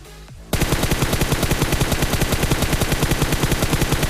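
Rapid automatic gunfire from a squad-battle shooter video game, a sustained loud burst of evenly spaced shots starting after a brief quiet moment and continuing without pause.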